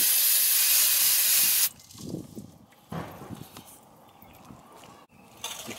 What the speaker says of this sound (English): you can spray brake cleaner